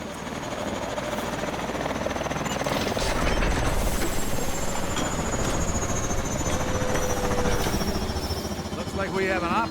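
A Warbird aircraft engine from Call of Duty Advanced Warfare hums and throbs steadily and loudly throughout, with voices speaking over it.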